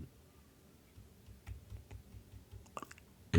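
Someone types an access list into a Cisco ASA firewall configuration on a computer keyboard, producing quiet, uneven key clicks close up that grow denser near the end and finish with a louder tap.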